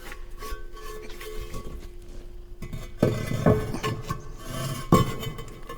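Firebricks are laid down to form a bake oven floor, with close scraping slides and a few solid clunks as each brick settles into place.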